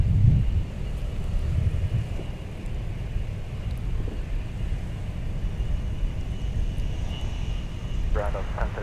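A fixed-wing airliner rolls for takeoff on runway 12 left at MSP airport, a steady broad engine roar with wind buffeting the microphone throughout, fairly distant and continuous.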